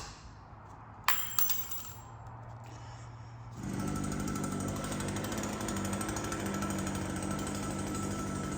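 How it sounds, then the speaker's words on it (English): A leaf blower starts up partway through, then drones steadily and fairly loudly in the background, after a faint metallic clink during home car engine repair work. "That's a leaf blower, or sucker should I say"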